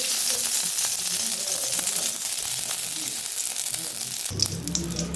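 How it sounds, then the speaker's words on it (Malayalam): Oil heating in a hot pan on the stove gives a steady, close hiss and crackle of sizzling, with a heavier, fuller frying burst near the end. "ഒരു ചട്ടി അടുപ്പത്ത് വെച്ച് ചട്ടി നന്നായി ചൂടായിട്ടുണ്ട്. അതിലേക്ക് കുറച്ച് എണ്ണ ഒഴിച്ചു കൊടുക്കാം."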